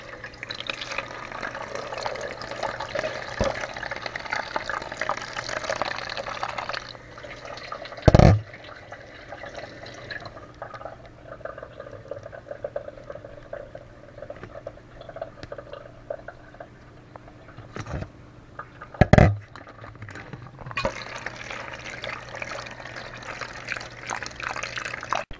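Rainbow trout eggs rinsed in water for ikura, with steady running and sloshing water, a gentle trickle, and two brief louder splashes, close by and without talking.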